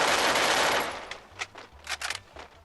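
Rapid bursts of UMP submachine gun fire in the Free Fire video game, a dense loud burst at first followed by several shorter separate volleys, no talking.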